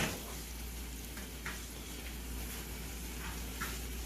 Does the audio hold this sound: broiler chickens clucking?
no